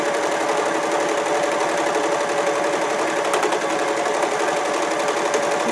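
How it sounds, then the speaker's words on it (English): An Elna 945 cover stitch machine running through fabric, a fast, steady mechanical whir and needle chatter held at constant speed, close and alone. "Keep sewing."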